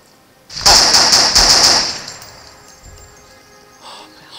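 A burst of rapid gunfire from a firearm in a scary first-person video game, loud and sharp for about a second and a half, then trailing into a quiet room-like tail with a faint later noise.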